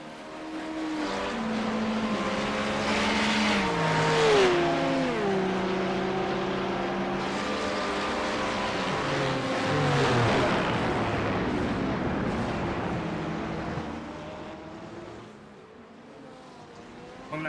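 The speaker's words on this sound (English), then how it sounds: "enjoy the sounds of the cars going around this beautiful track" Race cars roar past at the 6 Hours of France endurance race, engines rising and falling in pitch as they pass, loud and continuous, with several cars overlapping.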